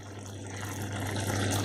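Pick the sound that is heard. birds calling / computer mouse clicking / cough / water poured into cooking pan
water poured into cooking pan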